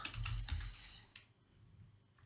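Fast, light keystrokes on a computer keyboard, close and distinct, clustered in a burst at the start and then a few scattered taps, with no talking.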